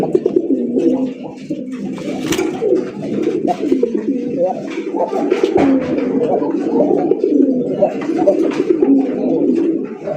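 Fancy Raj Golla pigeons coo continuously in a dense, close chorus of soft low burbling calls, with people talking underneath.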